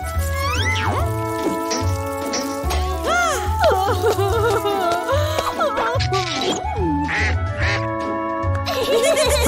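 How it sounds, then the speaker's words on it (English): A cartoon duck quacks over and over in a children's animated story, loud and close, while bouncy tonal music plays throughout. "Quack, quack, quack."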